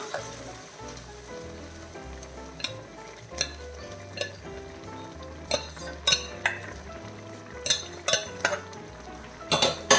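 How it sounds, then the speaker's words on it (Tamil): A spoon stirring green peas curry with sautéed shallots in a pan: repeated scraping strokes and sharp metallic clinks against the pan at an uneven rhythm over a low sizzle, close and fairly quiet. "நல்லா கிளறி விட்டுக்கோங்க."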